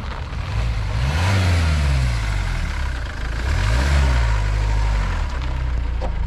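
A Ford Transit 2.2 Trend van pulls up nearby, its mid-pitched diesel engine rising and falling through two swells of revving before settling, loud and continuous with no talk.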